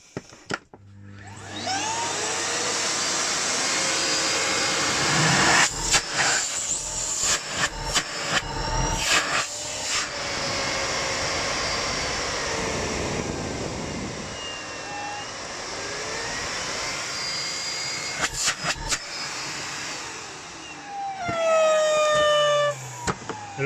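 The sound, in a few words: Miele Complete C3 vacuum cleaner running, filter whining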